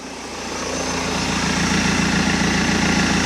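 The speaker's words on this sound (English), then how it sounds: "Don't know if you can tell, but the engine is running." A car that had been sitting and needed a jump start idles steadily, a continuous low, rumbling engine drone that swells slightly at first and then holds even, heard fairly close with no talk.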